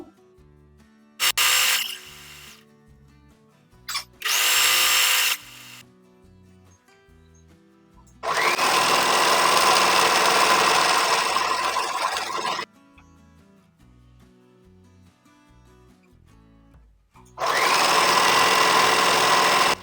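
A sewing machine stitches the fall onto a saree's edge with thread matched to the sari colour, running in loud mechanical bursts: two short runs early on, a long steady run in the middle and another near the end, with quiet pauses between.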